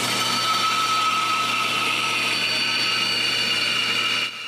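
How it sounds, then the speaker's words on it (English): A small bandsaw cuts through plywood with a steady, loud whirring drone and a constant high blade whine, running evenly throughout and easing slightly at the very end. "I finish the cut with my small bandsaw."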